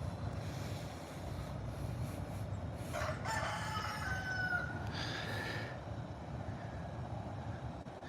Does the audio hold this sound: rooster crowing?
yes